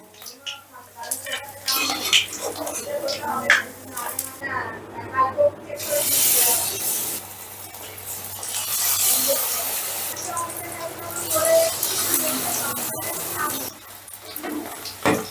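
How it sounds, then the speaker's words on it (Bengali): Eggs frying in oil in a pan for egg chilli give off bursts of hissing sizzle, mixed with clinks and scrapes of a utensil against the pan, fairly close and moderately loud. "এই সেম প্রসেসে আমি বাকি ডিমগুলোকেও ভেজে নেব"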